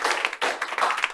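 A short burst of applause in an online training session, with scattered hand claps in quick, uneven rhythm, fairly close and moderately loud, lasting just over a second.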